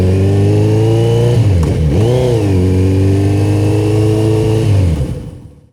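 A Kawasaki Z900 RS motorcycle engine revs loudly up close, its pitch rising and dipping before holding steady, then fading out at the end.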